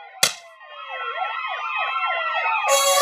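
Wailing fire engine siren, loud and continuous, its pitch sweeping up and down repeatedly, with a sharp knock at the start and a brighter burst near the end.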